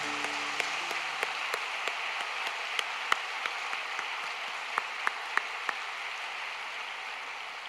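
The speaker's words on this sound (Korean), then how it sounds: "박수 한번 쳐주십시오" Congregation applauding at the close of a church all-night prayer conference, a steady wash of many hands clapping with a few sharper individual claps standing out, continuous and moderately distant.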